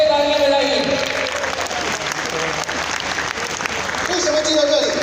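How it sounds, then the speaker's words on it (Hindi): A crowd at a solar power company gathering claps together, a thick burst of applause that dips briefly midway and then swells again. "अपने लिए तालियां बजाइए।"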